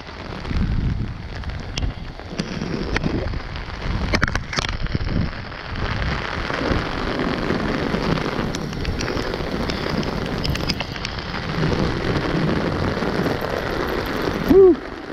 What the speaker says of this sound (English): because it's raining